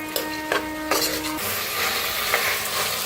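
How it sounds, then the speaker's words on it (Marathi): Peanuts, moth beans, peas and potatoes roast in hot oil for masala rice, a close, steady sizzle with a few clattering stirs near the start. "शेंगदाणा आणि मटकी टाकूया. आता ह्याच्यातच बटाटो बी टाकूया. छान असं भाजून घेऊया."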